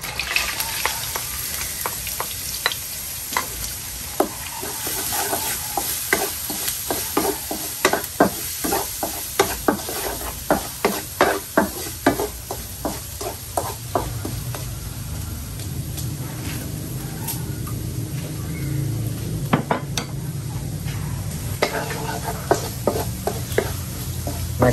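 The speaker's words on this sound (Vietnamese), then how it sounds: "Giờ em bắt cái chảo lên để mà em sấy xả ớt với xào nấm gươm luôn." Loud sizzling and crackling of lemongrass and chili stir-frying in hot oil, with repeated scraping and clacking of a utensil against the pan, tapering into a steady sizzle.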